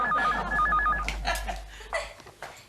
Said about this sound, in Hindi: कब से फोन बज रहा है, कोई उठाता क्यों नहीं?